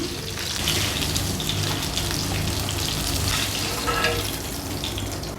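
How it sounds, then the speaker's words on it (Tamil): Chicken pieces fry in hot oil for mandi, giving a steady, dense crackling sizzle that holds evenly from start to finish with no talking. "இப்போ மீதி இருக்கிற சிக்கனையும் பொரிச்சிடலாம்."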